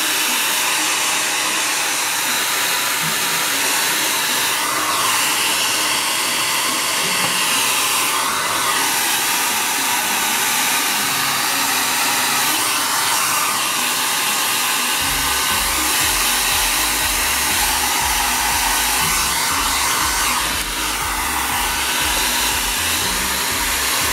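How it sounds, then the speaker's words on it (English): A handheld hair dryer blows warm air over drops of wet medium on a hard-cover journal craft project, a steady close whooshing whir that runs without a break, with a deeper hum filling in partway through and no talking. "And then I am going to take my hair dryer."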